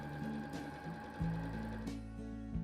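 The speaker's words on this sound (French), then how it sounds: "puis je pique à 5 mm de part et d'autre de la ligne de couture" An ELNA 560 sewing machine stitching fabric with a steady mechanical whir and rapid needle clatter, close and continuous, with a brief shift in motor pitch partway through.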